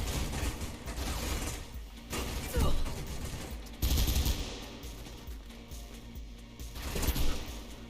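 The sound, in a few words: gunfire from the video game Mirror's Edge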